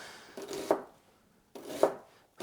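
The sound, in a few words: knife chopping onion finely for coleslaw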